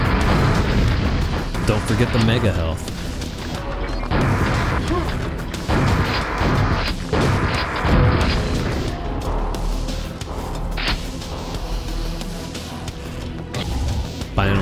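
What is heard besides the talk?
rocket launcher explosions in Quake video game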